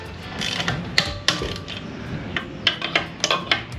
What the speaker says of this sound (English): now it's just a matter of torquing these down to 110 foot-pounds